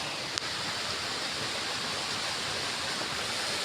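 Water flows steadily past a young rice paddy near a cornfield, a continuous rushing hiss that stays broad and even throughout, with one brief click near the start.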